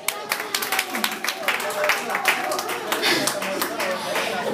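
Audience applause and clapping for a singer after a live performance, a dense patter of many hands sustained throughout, fairly close, with crowd voices mixed in.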